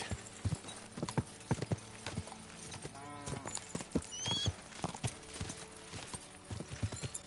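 Horse hooves clip-clop at a steady gallop in the medieval video game Kingdom Come: Deliverance 2, with a brief whinny partway through and faint game sounds around it.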